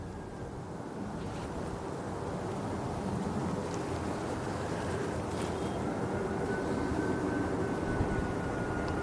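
An EasyJet Airbus A319 arriving at Manchester Airport on runway 05R, a steady broad jet roar that holds at a fairly even level for several seconds with no voices.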